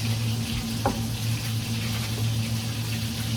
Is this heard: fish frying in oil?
yes